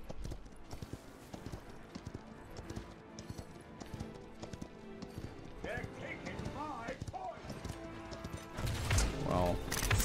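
Rapid horse hoofbeats clatter steadily in a video game with a game-like mix of effects, while people talk over the action.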